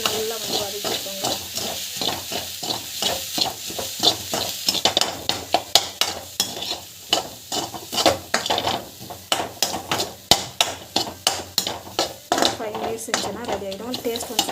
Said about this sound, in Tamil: இந்த ஸ்டேஜ் மிளகாத்தூள் வந்து ஆட் பண்ணி அதை போட்டு நல்லா வந்து வதக்கிக்கோங்க